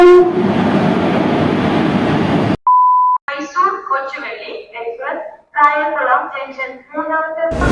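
Jan Shatabdi train at Kayamkulam station: a loud rumble of the moving train at close range, then a short steady horn blast, followed by people talking while the train noise fades.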